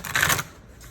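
Tarot cards are shuffled in a single brief riffle of papery flicking that fades out quickly.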